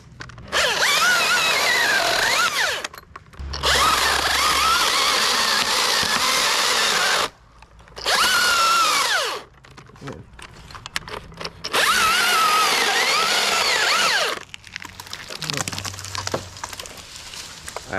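Chainsaw cutting a notch into the top of a backyard fir tree during removal, loud bursts of high revving in several separate cuts with short pauses between, the engine idling low near the end.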